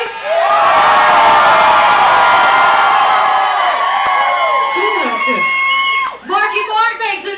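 Large audience cheering, whooping and shouting to vote for Vanilla Ice, a loud sustained roar of many voices that holds steady for about six seconds, then dips briefly and breaks into scattered yells.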